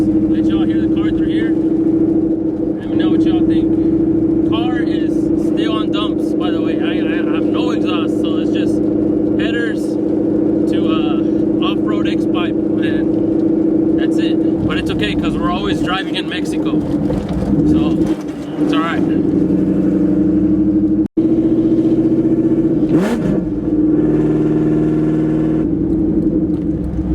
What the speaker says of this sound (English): So I'll give y'all some sound clips, let y'all hear the car through here.